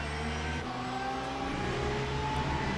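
An Aston Martin Valkyrie hypercar in Le Mans Ultimate at Monza, its engine a steady high-pitched drone that swells as it closes in and passes, over continuous race-car noise.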